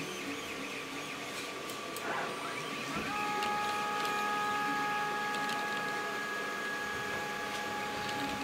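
A laser engraver works across a car dashboard as it traces a frame around an image, giving a steady mechanical whine with a sustained tone that steps up partway through, alone and at moderate level.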